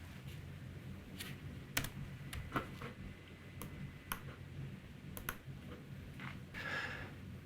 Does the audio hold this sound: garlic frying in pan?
no